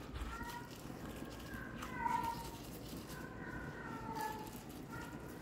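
A cat cries with stomach pain, letting out a few faint, drawn-out meows over kitchen background noise.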